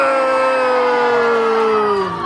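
A crowd at an outdoor lumberjack show cheers and shouts for the axe-throwing winner, a loud, sustained wall of voices with a few raised whoops rising above it, fading slightly at the end.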